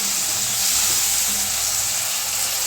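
Manathakkali berries, onion, tomato and garlic sautéing together in a pan for vatha kulambu, a loud, even, close sizzle with faint stirring and no voices.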